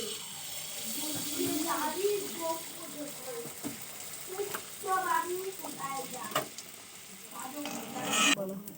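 Rice flour pitha batter fries in hot oil with a bubbling sizzle, and a spoon or ladle knocks and scrapes now and then. Background sounds shift throughout, and a louder burst comes near the end.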